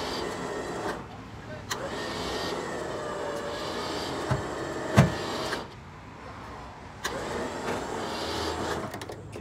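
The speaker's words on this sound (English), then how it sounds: "I cannot express to you how handy this remote control winch is." An electric remote-control winch hums steadily as it draws a car onto a trailer, a moderate whirring drone in bursts with brief pauses and a few clanks.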